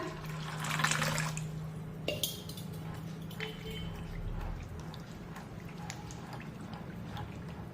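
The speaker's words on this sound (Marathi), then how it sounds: "यातलं जे एक्स्ट्राचं पाणी आहे ते आपण काढून टाकूया" Excess water splashes and trickles as it is poured off soaking chana dal, with a few clinks of a pot, continuing as a steady low running sound.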